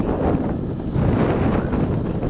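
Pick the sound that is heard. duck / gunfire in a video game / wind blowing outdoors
wind blowing outdoors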